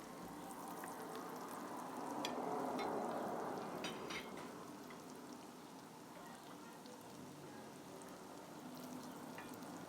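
Meat kavurma with onions sizzles steadily in a pan, a soft continuous frying hiss with occasional scrapes and clinks of stirring, close and moderately quiet throughout.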